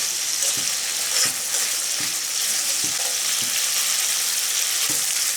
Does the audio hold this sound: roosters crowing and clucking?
no